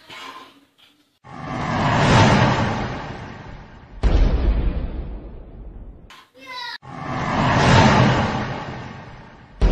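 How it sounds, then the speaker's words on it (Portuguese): Three loud, roaring bazooka blasts from the film Mission: Impossible – Fallout follow one another, each a rushing burst that swells and then fades, with short snatches of voices between them. "O meu irmão Sam vai dar dois tiros de uma bazuca pro dinossauro."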